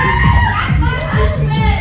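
An audience at a magic show aboard a cruise ship cheers and shouts for a volunteer, a loud continuous mix of voices and children calling out across the crowd.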